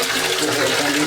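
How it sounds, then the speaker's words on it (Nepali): A kitchen water tap in a Nepali home runs in a steady, close gushing stream from start to finish, with no breaks. "बन्द गर्नुपर्ने धारा"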